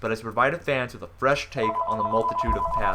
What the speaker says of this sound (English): Please do excuse the phone in the background.